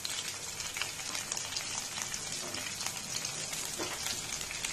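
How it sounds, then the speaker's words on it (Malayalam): Sliced onion sizzles in hot oil with garlic, ginger and green chilli for a Malabar fish curry, a close, continuous crackling fry with no talking. "അതിനകത്തേക്ക് ഞാൻ സവാള ആഡ് ചെയ്യുകയാണ്."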